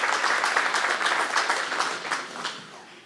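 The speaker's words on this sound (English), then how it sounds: "So a round of applause for Bianca so she can hear that from wherever she is." A round of applause from a banquet audience at a community awards dinner, steady clapping that fades gradually toward the end, heard alone without talk.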